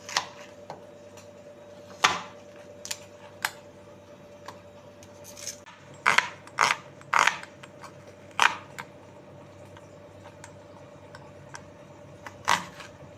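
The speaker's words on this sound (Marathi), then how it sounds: "आपण हे कांदा आता बारीक असा कट करून घेऊ।" A knife chopping onion finely on a board, heard as sparse, sharp, close taps in uneven bursts with clusters of quick cuts, over a steady low hum, with no voices.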